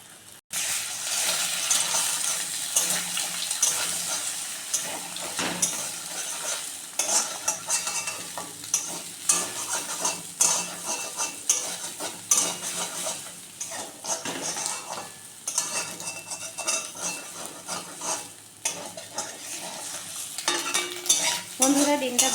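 Egg fries in a pan for egg chowmein, a steady loud sizzle with frequent scraping and clinking of a spatula against the metal throughout.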